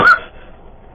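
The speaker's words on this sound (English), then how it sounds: "Excuse me, I'm going to cough." A single sharp cough, close and loud, followed by a quiet room tail.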